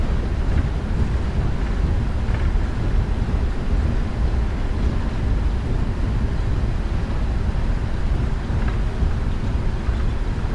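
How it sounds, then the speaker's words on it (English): PMDG 777-300ER thrust reversers deploying during a gusty landing in Microsoft Flight Simulator: a steady, loud, broadband roar that holds at a constant level throughout, without any talking. "Battle reverse coming out, ladies and gents."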